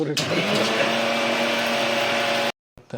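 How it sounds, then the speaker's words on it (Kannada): A kitchen mixer grinder whirs loudly as it grinds dry masala spices for tomato bath, a steady motor drone with a rattling edge that holds for about two and a half seconds, then cuts off abruptly before a brief clatter. "ಇದನ್ನು ರುಬ್ಕೊಂಡ್ಬಿಟ್ರೆ ಮಸಾಲೆ ರೆಡಿ"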